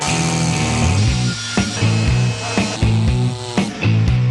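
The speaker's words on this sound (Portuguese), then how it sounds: "começa, obviamente, com uma personagem bem conhecida, a motosserra" Chainsaw cutting wood during Amazon deforestation, a loud continuous engine drone with a steady harmonic whine and rhythmic surges about once per second as the blade bites.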